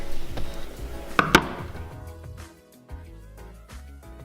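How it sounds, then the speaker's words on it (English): Knife cutting a cooked chicken piece in half on a board, a couple of crisp sharp cuts followed by quieter scraping, close and brief with no talking. "just take your biggest piece of chicken and cut it in half"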